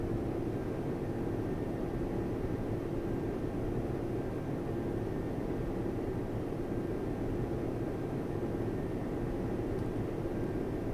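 Jet aircraft engine in the Strike Fighters 2: Vietnam combat flight game during descent on final approach, a steady broadband roar held at a constant level throughout.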